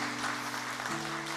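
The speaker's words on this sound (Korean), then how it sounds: "우리 큰 박수로 한번 환영할까요?" A Sunday church congregation claps in welcome of a new family, brief dense applause over sustained organ or keyboard tones that shift pitch partway through.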